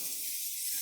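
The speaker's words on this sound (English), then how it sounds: "make sure you just spray it down with some" Pam cooking spray from a can hisses onto a preheated grill in one short, steady, fairly faint burst of aerosol spray.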